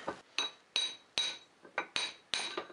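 A hammer strikes metal about seven times at a steady pace, knocking a tight bearing off a shaft on a 2008 Yamaha G29 golf cart, each blow a sharp ringing clank with a short metallic ring-out.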